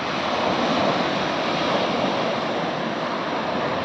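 A continuous roar of sea surf washing onto the shore, dense and unbroken, with no voices.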